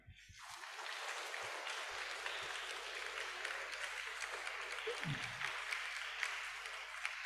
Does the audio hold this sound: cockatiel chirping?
no